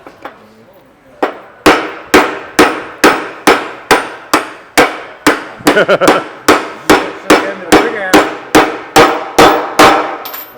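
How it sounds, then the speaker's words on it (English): Loud, sharp strikes of a bigger hammer repeat at a steady rhythm, about two per second, ringing metallically up close after a short quiet start, while assembling an Allweiler SEP progressive cavity pump. "let's try this bigger hammer just to see what happens"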